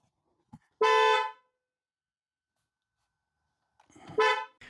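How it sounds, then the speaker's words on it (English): A BMW X5 car horn honks in two separate sustained blasts, loud and close, with a short click before the first and a pause of about three seconds between them. "I disconnected the front battery and the horn stopped honking"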